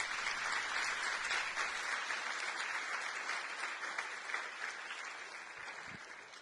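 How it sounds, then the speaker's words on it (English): A conference crowd at the MLSS 2019 opening gives sustained, even applause, a dense wash of many hands clapping that slowly fades toward the end, with no voices. "I think we should give us a hand of applause to all the people that I've just thanked"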